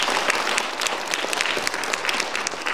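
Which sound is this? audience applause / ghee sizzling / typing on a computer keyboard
audience applause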